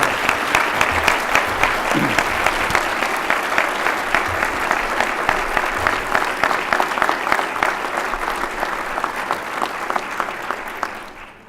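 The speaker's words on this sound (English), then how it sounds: "I'd really like to ask a big round of applause for John Yarbrough and VGT." A crowd at an awards ceremony breaks into loud, sustained applause that fills about eleven seconds of dense clapping before fading out at the end.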